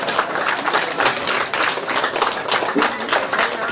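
Dense, sustained crowd applause fills a retirement honour ceremony for a school principal, loud and close with continuous overlapping claps throughout.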